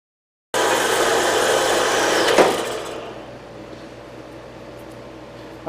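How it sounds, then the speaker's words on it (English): A saw cuts through aluminum stock with a loud, steady grinding roar that eases after about two seconds and settles into a lower running hum as the blade spins on. "I'm going to keep this saw busy today"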